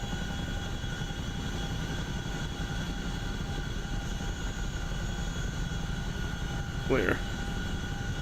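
A CH-47 Chinook helicopter in the flight simulator DCS World gives a steady low rotor and engine drone throughout, with someone talking over it and a brief higher burst near the end.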